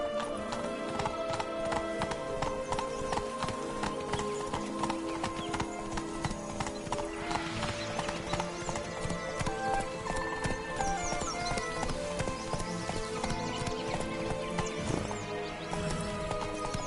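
A horse gallops in The Witcher 3: Blood and Wine, with steady rapid hoofbeats and a whinny running continuously under music, loud and close throughout.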